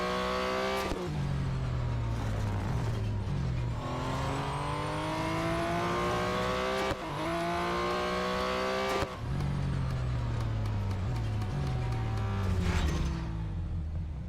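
Race cars roaring around a track in the mobile racing game Real Racing 3, engines loud and close, revving up through gear shifts in repeated climbing whines, with a couple of sharp breaks between runs.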